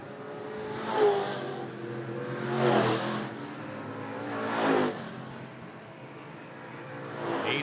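Small race cars roar past on the oval at Potomac Speedway during Small Car Nationals night, three engine passes swelling and fading at a distance, with a fourth building at the end.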